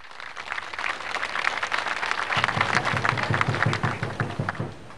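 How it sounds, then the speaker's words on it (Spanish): A crowd at a public drinking-water system handover in Nor Yungas, La Paz, breaks into dense, sustained clapping that builds steadily, with a regular low thumping pulse joining halfway through. "Un fuerte aplauso, por favor"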